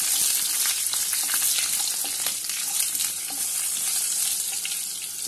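Curry leaves with dried red and green chillies crackle and fry loudly in hot oil, a dense continuous sizzle with quick popping spatters throughout.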